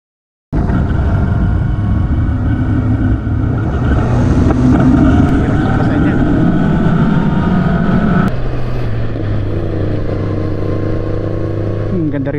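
A steady, loud Honda CBR650R motorcycle engine drones with a throaty exhaust note on a twisty road in Europe, holding a constant rumble that shifts pitch slightly partway through.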